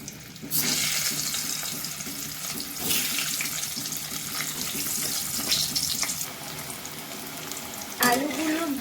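Potato pieces frying in hot oil, a loud, steady hiss and crackle that swells at moments as they are stirred, with a scrape of the utensil near the end.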